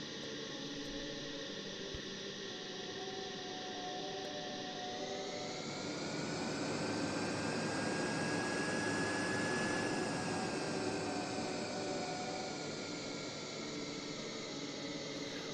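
A turbine engine spins up to high RPM, a steady loud jet-like whine and roar that climbs in pitch partway through and then holds, with no talking.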